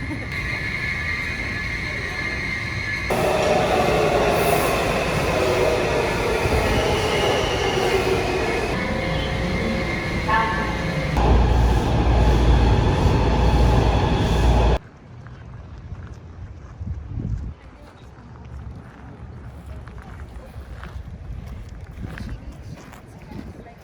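A Washington D.C. subway train roars and rumbles loudly at night for about fifteen seconds, then cuts to quieter station ambience with people talking.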